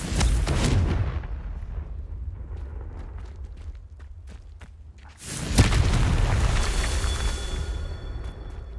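A Confringo spell explosion from the PC game Hogwarts Legacy, a loud deep boom that bursts out after a rumbling stretch of rock and magic effects, with crackling debris trailing off.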